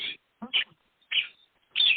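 Bird chirps come in short separate bursts, four sharp tweets spaced apart with silence between, close and clear with nothing else heard.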